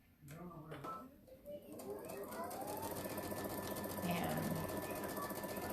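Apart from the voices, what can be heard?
sewing machine stitching a jelly roll quilt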